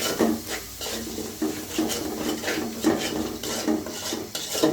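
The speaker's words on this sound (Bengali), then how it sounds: "এবার মশলাটা ভালো করে কষিয়ে নেব।" Spice masala with chilli powder is stirred and fried in a metal pot for beef khichuri, with a spoon scraping and knocking the pan in a repeated rhythm over a soft sizzle.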